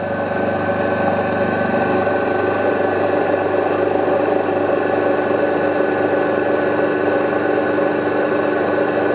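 An induction (asynchronous) AC motor runs under about 1 newton-metre of load on a test bench, giving off a steady, unbroken mechanical hum with a faint whine throughout.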